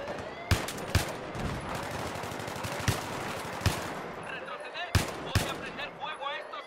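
Gunfire in the video game Battlefield 3 on the Grand Bazaar map cracks out in sharp, loud single and double shots at irregular intervals over a dense bed of battle noise, with faint talk mixed in.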